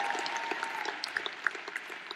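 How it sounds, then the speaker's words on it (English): Light, fairly quiet applause from a crowd, a steady patter of many hands clapping throughout. "you can clap for that"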